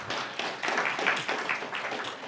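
A church congregation applauds in a moderate, uneven patter of hand claps that rises and dips, heard at a middling distance without talk over it.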